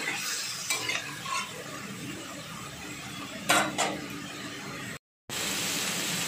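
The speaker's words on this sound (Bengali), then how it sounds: "জল থেকে ছেঁকে নেওয়ার পরে এই টমেটোর উপরে পনিরগুলো দিয়ে দিচ্ছি। দিয়ে একটু ভালো করে নেড়ে নিচ্ছি।" Paneer cubes stirred into tomatoes in a pan, a steady close sizzle of frying with scraping spoon strokes and a couple of brighter clinks against the pan, no voices.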